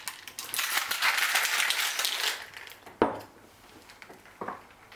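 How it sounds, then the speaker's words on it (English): Soju and cranberry juice rattle inside a cocktail shaker, a dense burst of rapid rattling ice for a couple of seconds, followed by a few sharp isolated clunks as the shaking stops. "Give it a good shake."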